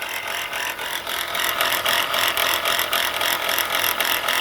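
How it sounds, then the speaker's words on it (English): A car alternator with a worn, failing bearing rattles and whirs continuously up close, a dense metallic grinding chatter with a steady rhythmic pulse and no talking over it. "look like the alternator bearing is shot"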